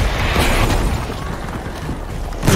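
A rocket blast in the Battlefield V video game, a broad rumbling boom that holds loud for about a second and then tails into a mid-level roar, with a sharper burst near the end.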